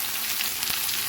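Grated ginger, chilli powder and spices frying in a hot pan for a Bengali prawn and Malabar spinach dish, giving a steady, close broadband sizzle with no pauses and no talk.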